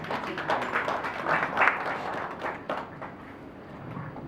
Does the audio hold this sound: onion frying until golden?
no